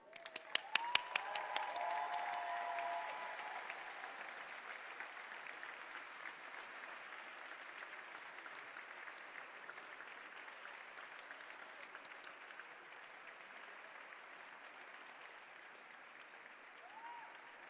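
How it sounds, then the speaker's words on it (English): A graduation audience at a full-time MBA program ceremony breaks into sustained applause, with a few sharp claps at the start settling into a steady, broad wash of clapping that holds for the whole stretch. "Let's recognize them with a round of applause."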